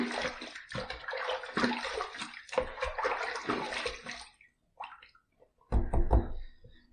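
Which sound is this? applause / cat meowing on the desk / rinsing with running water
rinsing with running water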